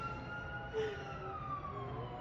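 Sirens of passing emergency vehicles, fire engines and ambulances, wail faintly at a distance in a steady rising and falling tone over low background rumble, with no clear talking.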